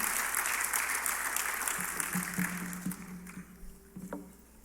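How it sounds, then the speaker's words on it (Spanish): Church congregation applauding during a sermon, a broad wash of clapping that gradually thins and fades toward the end, fairly quiet and distant, with faint tones underneath. "Déselo fuerte. No demos un aplauso a medias."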